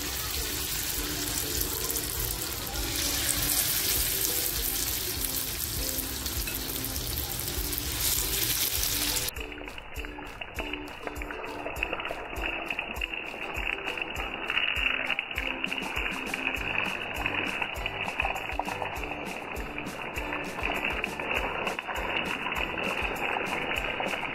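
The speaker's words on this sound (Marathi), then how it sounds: "तेल टाकते. बघा मसाला किती मच्छीला छान लागलेला आहे. ही मच्छी मस्तपैकी फ्राय करून घेते." Fish coated in masala fries in hot oil in a heated pan, giving a steady, loud sizzling hiss that continues unbroken throughout, with the sizzle growing brighter and crisper about halfway through.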